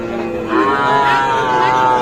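A calf at the Ambari cattle market lets out a long, loud moo close by. The call is drawn out, rises and then holds steady. No other sounds compete with it.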